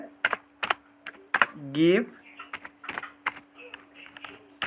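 Quiet computer keyboard typing in short clusters of key clicks, with a brief voice sound in the middle and a faint steady hum underneath.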